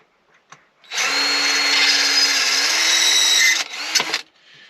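A power drill drills holes in a can for a twin burner stove, whirring steadily for about three seconds at close range, then winds down with a few clicks and clatters.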